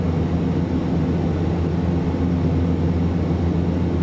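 Black Square Starship aircraft taxiing in Microsoft Flight Simulator 2024, a steady low engine drone and hum holding evenly throughout with no talk.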